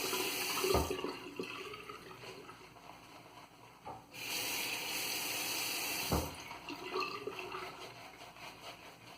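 Water runs from a tap while a Semogue 830 brush is readied for VDH Deluxe shaving soap, a steady hiss broken by two short pauses and a louder gush partway through, with no talking.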